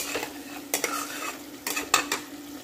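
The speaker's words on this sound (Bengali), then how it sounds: "এরপরও ভালো করে মশলাটা কষে নেব।" Spice masala with Kashmiri chili powder fries in oil in a pan, a soft sizzle broken by several sharp clinks and scrapes of a metal spoon stirring, close up and without talking.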